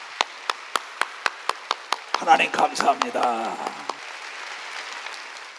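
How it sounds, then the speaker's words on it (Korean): Rhythmic claps from a church congregation at a Sunday service ring out in a steady beat for about two seconds, then a voice speaks over fading applause. "하나님께 박수 치세요."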